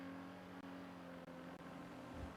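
A car engine in a GTA role-play game hums steadily with a low, faint tonal drone, briefly dipping a few times and swelling slightly at the end.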